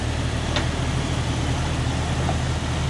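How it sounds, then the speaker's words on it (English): Steady low rumble of a 1997 Jeep Cherokee XJ engine idling nearby, even and unbroken throughout, with a couple of faint small clicks. "Engine runs great."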